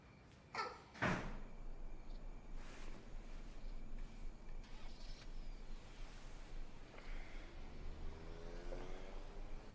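Door slamming shut indoors at night: a sharp double thud near the start, followed by muffled movement, faint distant sounds and quiet room tone.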